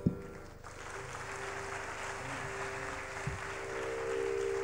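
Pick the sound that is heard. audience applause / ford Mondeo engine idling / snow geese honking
audience applause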